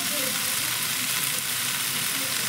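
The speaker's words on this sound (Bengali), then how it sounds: "কিছুক্ষণ নাড়াচাড়া করে নিয়ে তারপরে আমি এটা ঢেকে দেব" Ridge gourd pieces fry in spiced oil and are stirred, making a dense, loud, steady sizzle that holds close and unbroken throughout.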